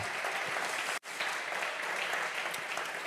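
Congregation in a church service clapping loudly and continuously, a dense wash of applause with one brief dropout near the start.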